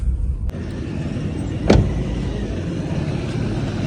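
A car idles and rolls steadily while being driven and turned around on a village road, with a brief louder thump partway through and no talking.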